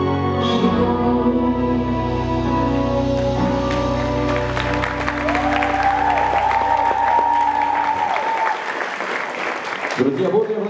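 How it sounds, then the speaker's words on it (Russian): Audience applause for a ballroom dance studio's performance at a competition, a dense, loud wash of clapping that swells over the closing music and carries on alone after the music fades out. "Друзья, бурные аплодисменты в студии бального танца Таврической академии и их композиции «Книжные дети»."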